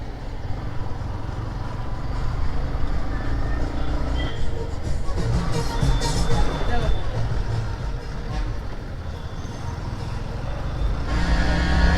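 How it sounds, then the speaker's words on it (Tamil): Heavy traffic at Ooty junction in the Nilgiris hills, a steady loud wash of car, bus and truck engines rumbling close by, with people talking over it throughout. "ஊட்டி ஜங்ஷனில் செம்ம டிராஃபிக்காக இருக்குங்க."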